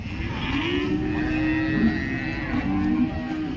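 A horned cow at the Modnimb cattle market gives one long, loud, close moo that wavers in pitch for several seconds.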